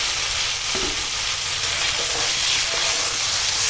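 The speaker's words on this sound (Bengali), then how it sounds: "এখন দিয়ে দেবো ভেজে রাখা পটল" Fried pointed gourd pieces hitting a hot pan of frying masala, setting off a steady, loud broadband sizzle with a few soft clinks of stirring, no voices.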